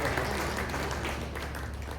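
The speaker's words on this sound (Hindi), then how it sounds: "मैं आदरणीय सुब्रम शास्त्री जी को आपकी तालियों के मध्य बुलाना चाहूंगा।" An audience at a poetry reading and book launch breaks into steady applause to welcome a speaker, a dense wash of hand claps that carries evenly throughout at moderate loudness.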